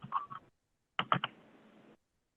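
Keystrokes on a computer keyboard, a short quick burst of typing followed by a pause, then a second burst of clicks, close and quiet.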